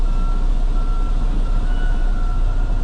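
A truck backs up to a shipping container in Hawaii, its reversing alarm beeping in a steady repeating pattern over a constant low engine drone, close and loud.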